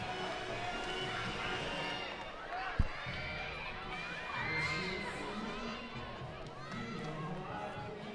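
A large, packed crowd cheers and shouts at a women's college softball game between Missouri and Arkansas, with children's shrill yells and a steady roar of chatter throughout, plus one sharp thump partway through.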